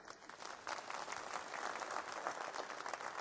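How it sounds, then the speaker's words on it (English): Crowd at a talk event applauding for a sign language translator, a brief burst of dense, continuous clapping heard fairly quietly and without speech. "can I get a round of applause for one of our sign translators"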